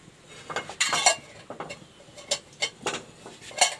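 A frying pan is handled as butter is added for toasting sandwiches. Close, irregular metallic clinks and scrapes from a spoon and pan come in bursts with brief pauses, and no one speaks.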